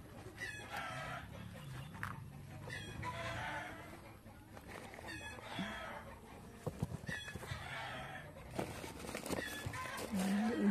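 Chickens clucking and crowing outdoors among fruit trees, intermittent calls rising over a steady background with some speech.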